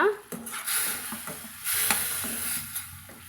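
A spoon scrapes and clatters inside a pot of Pallipalayam chicken over a steady hiss of simmering, with a few soft knocks against the metal.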